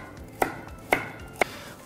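A knife chopping carrots and zucchini on a cutting board in a kitchen, three evenly spaced, close, sharp thuds with no talk.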